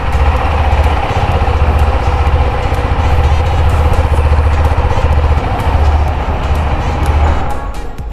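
The loud exhaust of a KTM Adventure 390 motorcycle with a BS6 engine idles close by. It keeps a steady, throbbing rumble throughout without pause.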